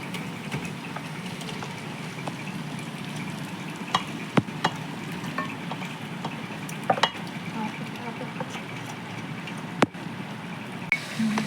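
Chicken with turmeric sizzles softly in a pan while being stirred, a steady low frying hiss broken by sharp scattered clacks of a spoon against the metal.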